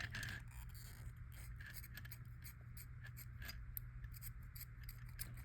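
Scissors trimming string on a boho mobile made from beach finds, giving a steady run of close, crisp snips and rubbing blade noise over a low background hum.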